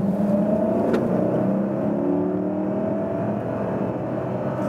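A 2020 Mercedes GLS accelerates hard from about 30 mph, its engine note rising smoothly and strongly over sustained road and tyre roar from inside the cabin, with no talking.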